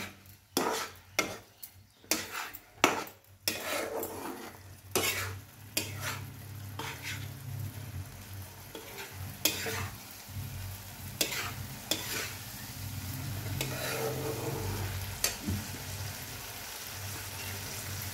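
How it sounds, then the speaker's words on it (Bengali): Spice masala sautéing in hot oil for Bengali ghugni, with loud scraping stirs and spoon clanks against the pan early on, then a steady sizzle broken by occasional stirring strokes. "এটা একটু কষে নিতে হবে ভালো করে"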